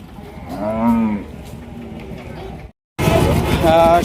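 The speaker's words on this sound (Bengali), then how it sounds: "সুন্দর একটা বকনা দেখছিলেন হাটের মধ্যে প্রবেশ করছে" Cattle at a busy livestock market in Rajshahi low out in long, loud moos, one heifer among them, with a brief silent gap before more mooing and background crowd noise.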